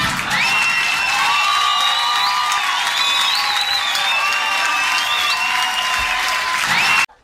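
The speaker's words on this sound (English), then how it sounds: "nobody's clapping at the same time" A stand-up comedy audience bursts into loud, sustained applause mixed with whoops and cheers, the clapping dense and continuous before cutting off abruptly at the end.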